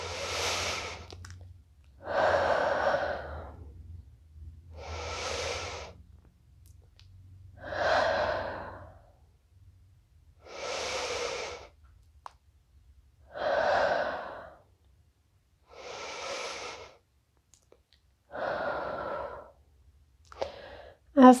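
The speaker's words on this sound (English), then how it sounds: "Take a couple of deep breaths here." Slow, deep breathing from someone lying in yoga Shavasana, close up, with about eight long, even breaths spaced a couple of seconds apart, each inhale or exhale a soft airy rush, alone in a quiet room.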